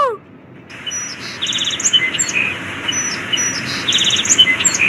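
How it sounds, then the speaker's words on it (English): A sparrow chirps in short, repeated tweets from a tree, clear and fairly near over a steady outdoor background hiss. "That is a sparrow, Priya."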